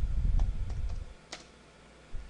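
Keys tap on a computer keyboard, a few soft scattered clicks close by, with low background rumble and no talking.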